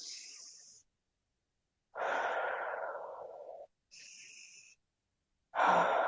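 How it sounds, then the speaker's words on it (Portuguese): Slow, conscious breathing for calming anxiety, drawing air in and out through the abdomen. Four close, soft breaths alternate with silent pauses, two longer airy exhalations and two shorter inhalations. "fazendo uma respiração consciente por algum tempo, ajuda a controlar um estado de ansiedade"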